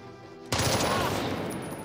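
A single sniper rifle shot in Jagged Alliance 3 cracks sharply after a quiet moment, then rolls into a long echoing tail that slowly fades.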